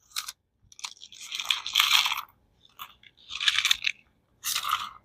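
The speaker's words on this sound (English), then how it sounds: "Sorry for the noise of the rocks." Mirrored glass pieces pour into a mold for an inlay tray in several separate bursts of crisp, crunchy rattling, with short silent gaps between pours.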